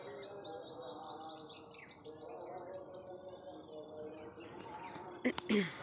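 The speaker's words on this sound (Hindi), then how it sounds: "चिड़िया की चहकने की आवाज़ आ रही होगी आप लोगों को" Birds chirp repeatedly in quick rhythmic bursts outdoors on a rooftop, with soft insect-like buzzing and low background hum; a short knock or clatter occurs near the end.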